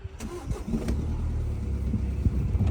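A car engine starts on a used car lot, cranking briefly before catching and settling into a steady low idle, close and fairly loud with no talk.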